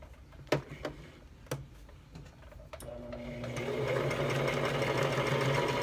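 A sewing machine starts with a few sharp clicks and thumps, then settles into a steady, fast whirring run as it stitches uneven fabric pieces, close and fairly quiet.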